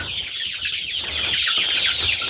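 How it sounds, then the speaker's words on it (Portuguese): Laying hens in a flock of two hundred cluck and chatter continuously at moderate distance, overlapping calls forming a steady busy coop murmur with no voices. "Tô criando galinha poedeira."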